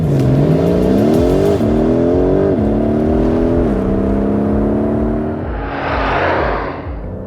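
A Porsche 911 GTS engine revs hard through several rising gear pulls, loud and close, then eases off with a burst of hissy turbo or exhaust noise near the end.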